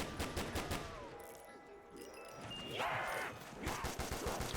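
Automatic gunfire in the Black Ops 3 Tranzit zombies mode rattles in rapid, steady bursts through most of the stretch, loud and close over game ambience, with one brief pause in the middle.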